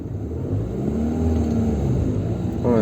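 A car engine rises in a steady rumbling rev as the car pulls away during a driving lesson, close and continuous, heard from inside the cabin with no voices.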